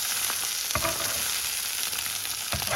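Halibut fillet sizzles steadily in a hot pan, skin side down, a close, continuous frying hiss with a few brief scraping clicks from a utensil and no voices.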